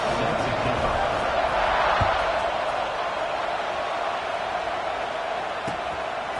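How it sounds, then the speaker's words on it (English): Football stadium crowd buzzing after a touchdown, a dense continuous roar of many voices filling the space, with a broadcast commentator talking over it. "this crowd is buzzing after that last score"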